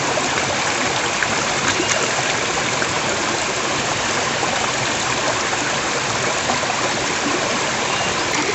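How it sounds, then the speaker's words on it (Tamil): A mountain stream at Yercaud rushes and splashes steadily, close and loud, in a continuous even wash of flowing water with no pauses. "அந்த ரிவர் தான் இது அழகாக வருது பாருங்க"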